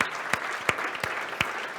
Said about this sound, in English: Give everybody a round of applause for being here.